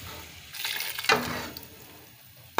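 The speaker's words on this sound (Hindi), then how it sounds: "और इसको हमने जो हमारा साग है इस पर इसका तड़का डाल दें" Hot tadka tempering poured onto cooked saag gives a quiet crackling sizzle that flares briefly, then fades under soft background noise, ending with a sharp clatter.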